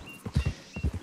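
Hooves clip-clop in quick pairs of hollow knocks, a horse trotting close by in Red Dead Online, steady and fairly quiet.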